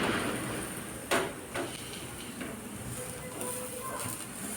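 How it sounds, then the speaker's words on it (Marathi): Pumpkin thalipeeth sizzles in a pan over a high gas flame as it is flipped and turned, a steady low frying hiss with a couple of soft scraping knocks, fairly quiet. "मी सतत आहे ना असं हलवते, म्हणजे अलट पलट करून छान असं त्याला खरपूस भाजून घेते बघा"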